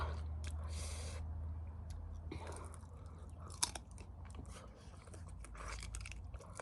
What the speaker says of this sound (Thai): เคี้ยวเพลินมาก